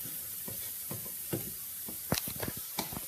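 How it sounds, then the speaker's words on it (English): Onions sauté in a pot for lentil soup, a soft continuous sizzle with scattered scraping stirs that grow busier toward the end. "so we're sauteing the onions at this point"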